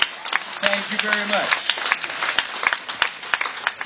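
Scattered audience applause for a bullwhip performer's noodle trick, clapping under a voice with sharp whip-like cracks at intervals.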